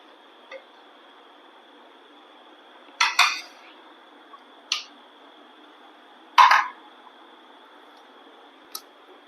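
An uruli pot set on a kitchen stove while cooking egg varuval gives a few scattered metallic clinks and clatters, close and fairly quiet, over a steady low background hum.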